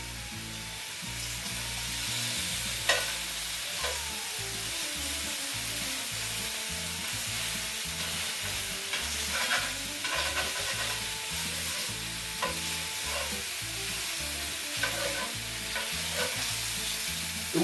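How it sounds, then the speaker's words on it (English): Venison tomahawk steaks sear in a hot pan, giving a steady, dense sizzle and crackle throughout, with occasional louder pops and scraping stirs, no voices. "We want to get a nice sear on these."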